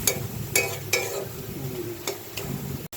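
A spoon stirs and scrapes cooked data shak greens in a pan, giving a handful of distinct clacks and scrapes over a soft sizzle.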